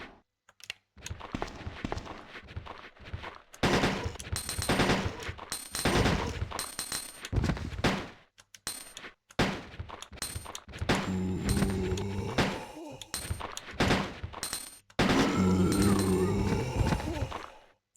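Gunfire from the video game Resident Evil 2, heard as repeated sharp shots in bursts with pauses between, loud and close, alongside game sounds and music.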